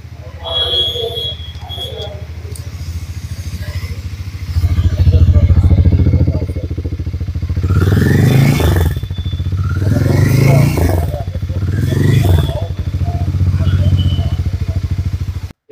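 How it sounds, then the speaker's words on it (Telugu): Exhaust note of a Hero Mavrick 440 motorcycle, a steady close engine rumble that rises in three repeated throttle blips, with brief talk near the start. "మనం వచ్చేసరికి ఎగ్జాస్ట్ నోట్ చూద్దాము."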